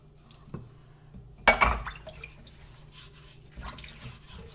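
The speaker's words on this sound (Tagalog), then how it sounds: "Tutuloy ko po itong paghuhugas ko para malinis ang lababo." Dishes being washed at a kitchen sink, with a burst of running and splashing water mid-clip amid quieter clinks, drips and handling sounds, close and moderately loud.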